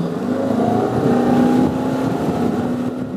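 A motorboat engine drones loud and close as the boat speeds up to get on plane on the Mississippi River Gulf Outlet near Hopedale, Louisiana, holding a steady, rising roar against wind.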